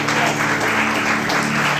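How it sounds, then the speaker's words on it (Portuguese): Church congregation applauding during an evening worship service, dense continuous clapping, loud and close, with a low steady hum beneath it. "Vamos aplaudir Jesus nessa noite."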